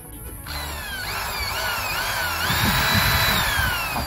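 A power drill bores into wood during a DIY rope swing build, its motor whining steadily and rising in pitch as the bit works through, loud and close with no voices.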